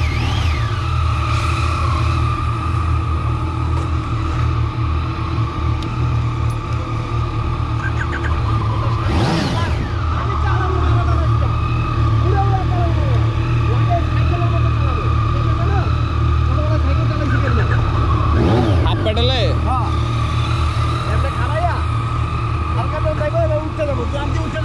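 Ten Yamaha MT-09 motorcycles started and idling together on their stands, a loud dense continuous engine rumble with a steady low throb and occasional revs swelling above it throughout.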